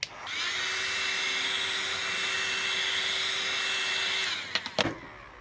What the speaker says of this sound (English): don't stay too close to the wrap with the heat gun like I just did